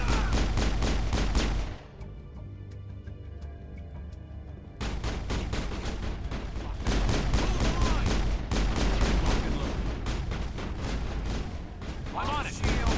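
Pistol and other gunfire in a shooter video game, loud sharp bursts filling most of the stretch with a short quieter gap near the start, mixed with game sounds and someone talking over it.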